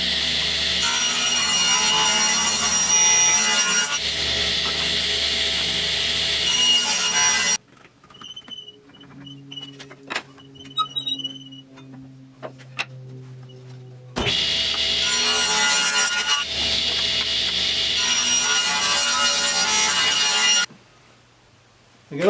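Table saw cutting a wooden strip for a canvas painting frame, two long loud runs of steady buzzing sawing separated by a quieter gap with small knocks and handling of the wood, close by, no talk.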